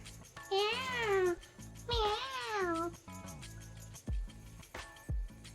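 A cat gives two drawn-out, wavering meows close by, each rising and falling in pitch, followed by shorter quieter sounds and soft thumps.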